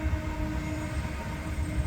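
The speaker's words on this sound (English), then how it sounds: "There's our freight train." A freight train rumbles past nearby in Elmhurst, a continuous low rolling roar with faint metallic ringing, no voices.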